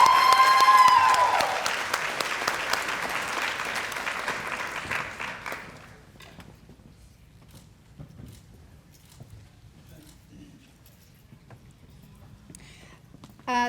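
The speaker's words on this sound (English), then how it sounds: "let's give her a round of applause" An audience applauds at a Teacher of the Year reception, a burst of many hands clapping that holds for several seconds, then thins and fades to scattered claps and quiet room noise.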